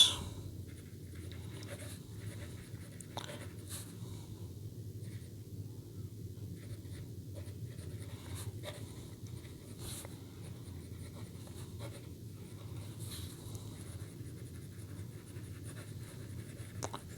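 Extra fine nib fountain pen, an eyedropper-filled demonstrator inked with black, writing on notepad paper: a faint, continuous soft scratching with occasional tiny ticks, very quiet and close, with no talking.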